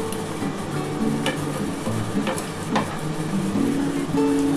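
Fried bitter gourd pieces go into a pan of shukto and get stirred, giving steady scraping and light clinking over a soft simmer, close and fairly loud, with no talk.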